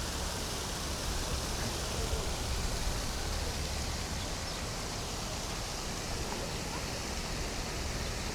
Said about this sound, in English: this is also extremely photogenic water fountain